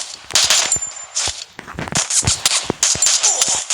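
Video game gunfire from a Desert Eagle pistol and a double pump shotgun: a loud, close burst of several sharp shots in quick succession, with no talking.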